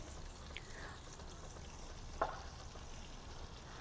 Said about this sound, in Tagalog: Ilagay natin yung mantika at saka yung butter. Kailangan mag-melt yung butter.